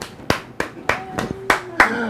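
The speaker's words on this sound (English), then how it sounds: "Give them a round of applause." Sharp, distinct handclaps sound on a live barbershop talk show as the audience is asked for a round of applause. The claps fall in an even rhythm, close and crisp, over a faint tonal hum.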